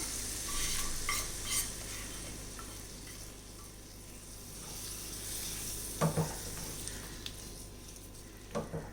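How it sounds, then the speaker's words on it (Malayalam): Fried masala and spice powders being stirred into a jackfruit seed, mango and drumstick curry: a faint low sizzle under soft stirring, with a couple of sharp utensil knocks against the pot, no voices. "പൊടികൾ മസാല എല്ലാം കൂടെ കറിയിലേക്ക് ചേർത്ത് കൊടുക്കാം"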